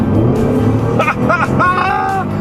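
The engine of a 2014 Bentley Flying Spur, the most powerful Bentley sedan, roars loudly as it accelerates hard, its pitch rising and shifting in short steps, heard from inside the car with a voice mixed in.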